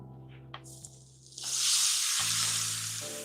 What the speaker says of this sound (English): Just let that sizzle on there.